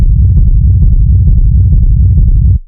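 A loud, dense, steady techno bass tone pushed through a limiter, with a flattened, squashed level, pulsing slightly throughout before cutting off abruptly at the end.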